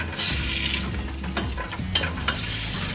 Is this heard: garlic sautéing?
yes